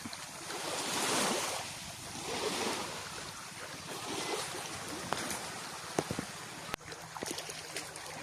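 Ocean surf washing in continuously with steady wind noise across the microphone, a few sharp knocks and clicks near the end.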